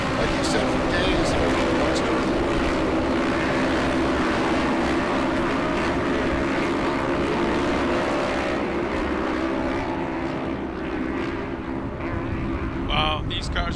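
Production 1000 UTV race cars run a short course track at King of the Hammers, giving a steady, loud engine roar that stays dense throughout as the machines pass, with no voices over it.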